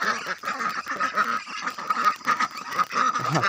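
Ducks quack and honk almost without pause, close and fairly loud, with overlapping nasal calls running through the whole stretch.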